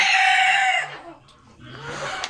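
A rooster crows loudly up close in a coop, the call fading out after about a second, followed by softer clucking from hens, with Silver Laced Bantam Wyandotte birds among them.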